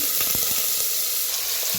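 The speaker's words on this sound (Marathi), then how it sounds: "आता जिरं चांगलं भाजले ते त्यात टाकूया चिकन" Chicken hits hot oil seasoned with cumin and turmeric, a loud, continuous sizzle with a few quick splattering pops near the start.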